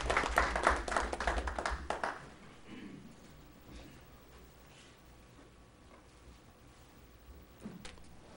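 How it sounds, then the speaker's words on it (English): Audience applauding at a city commission meeting in Marquette, a dense burst of clapping for about two seconds that then fades into quiet room tone, with a brief stir near the end. "Could we have a round of applause for Diana?"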